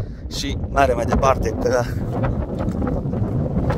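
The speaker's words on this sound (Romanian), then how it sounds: "bate vântul de nu ne auzim, cred că" Wind blows hard across the Apuseni mountains, a constant low roar buffeting the microphone throughout. A person talks loudly over it for the first half.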